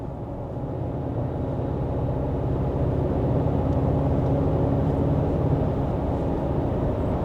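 Engine of a 2024 Toyota Tacoma pickup accelerating with the throttle controller in off mode, a steady loud low rumble that builds gently and holds throughout, heard from inside the cab with no talking.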